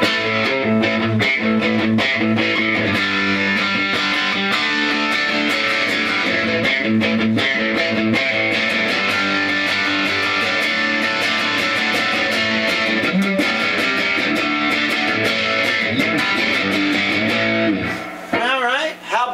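An electric guitar plays through a Mike Gee Kustoms La Cab-lolita amplifier with the gain kicked in, giving a loud, distorted, sustained riff of dense chords and picked notes that runs for many seconds before cutting off near the end.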